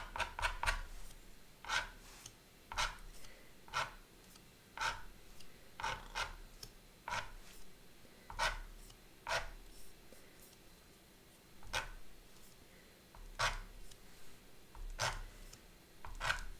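A tool scrapes lines into wet watercolor paint on paper for a dog portrait, a series of short, quiet scratchy strokes at irregular intervals, close and alone.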